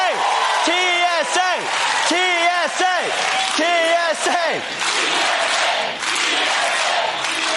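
A crowd cheers and whoops in loud, rhythmic, rising-and-falling yells, sustained and close with voices mixed throughout.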